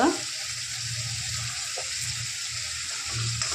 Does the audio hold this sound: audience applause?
no